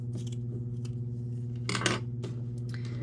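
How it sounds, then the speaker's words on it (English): Scissors snip off excess yarn ends on a crocheted tassel, a few sharp close clicks standing out against a steady low hum, with one louder cluster of cuts in the middle and no talk. "Cut the excess at the same length."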